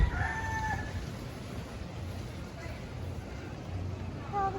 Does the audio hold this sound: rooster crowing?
yes